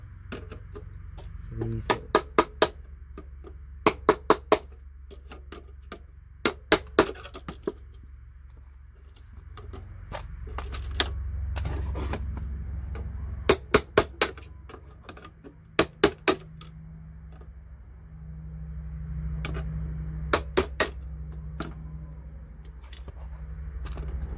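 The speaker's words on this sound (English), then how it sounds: "remove everything we need to remove the hammer and chisel first" A hammer drives a chisel into scrap metal from electronic chips, striking in quick clusters of sharp metallic clanks separated by pauses, over a low steady hum.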